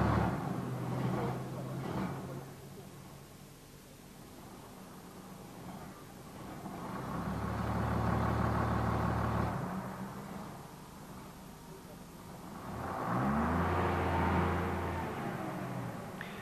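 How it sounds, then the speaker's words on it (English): A Leyland Olympian bus engine with a hydracyclic semi-automatic gearbox revs up in three swelling bursts, held against the brakes during a stall test, then settles back to a low idle between them. "with the vehicle brakes on, accelerate the engine, and if all is in order, then the engine can only reach half revs and achieve a stall condition"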